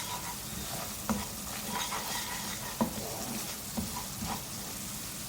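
Garlic, ginger and Kashmiri red chilli sizzle and fry in a pan for butter chicken, stirred with a few sharp scrapes of the spoon over a steady close crackle.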